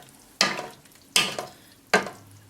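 Three scraping stirs through thick venison chili in a pot, evenly spaced, each a short wet swish against the pan.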